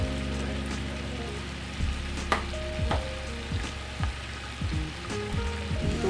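Chopped tomatoes sizzle and fry steadily in a pan while chicken pulao is being made, giving a loud continuous crackle with occasional stirring scrapes and no voices.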